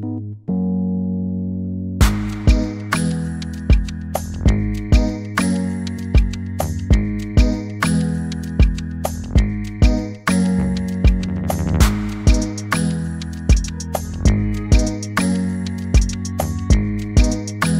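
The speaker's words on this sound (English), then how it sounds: "So I'll play the beat for you that I made," A basic homemade beat pairs a looping chord progression with a steady drum groove, opening on a soft sustained chord before punchy kicks and snares enter and repeat evenly at a moderate tempo, with no voices.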